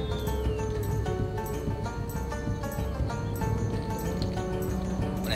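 Horse cavalry unit in a Medieval II Total War siege battle, with a continuous rumble of hooves and clatter under battlefield noise and faint bird chirps.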